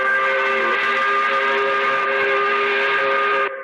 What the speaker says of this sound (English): There she blows the 5 o'clock whistle appropriately